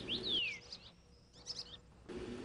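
Birds in a mountain forest near Lishan give a few sharp chirps and short whistled calls, bright and fairly close, separated by brief quiet gaps over faint background hiss.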